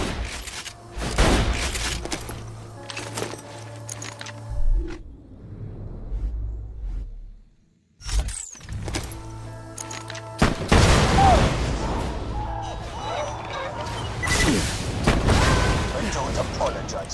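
Fire weapon firing at a tank in Borderlands 2: repeated loud booming blasts and bursts of shots, with a quiet lull midway and then dense, heavy firing, mixed with other game noise.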